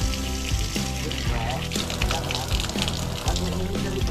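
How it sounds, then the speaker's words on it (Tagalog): Water sprays from a shower head in a continuous splashing hiss, with a voice talking and music playing over it. "Kailangan natin mag-shower para malaki ang sakop ng tubig."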